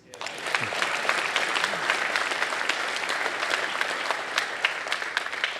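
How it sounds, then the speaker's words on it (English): An audience at a university presidential inauguration ceremony at Illinois Institute of Technology breaks into sustained applause, a full, steady clapping that swells quickly and carries on for several seconds. "that deserves an applause"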